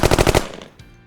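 A close, loud rifle shot from a .22 WMR or .17 HMR rifle fired with 20 grain Winchester ammunition at a speed test. The sharp crack is followed by a short decaying echo.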